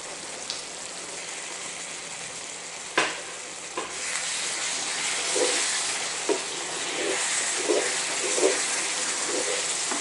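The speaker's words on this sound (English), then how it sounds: "we're going to go ahead and just let that simmer for a good 10 minutes" Bacon jam mixture in a pan gives a constant close sizzle and bubbling hiss, with occasional stirring scrapes and soft pops scattered through.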